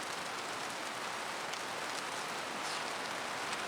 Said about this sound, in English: It's really raining out there, isn't it?